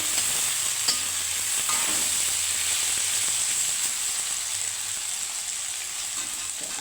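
Sambal goreng frying in a pan, giving a steady, loud, bright sizzle with faint stirring scrapes throughout, no voices.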